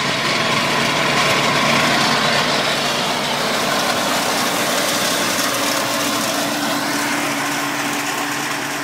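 International Harvester Farmall Cub tractor running with a C3 mower attached, its small engine droning loud and close at a steady pace throughout, with no talking.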